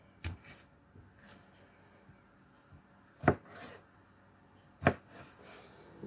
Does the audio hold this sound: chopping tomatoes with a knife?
yes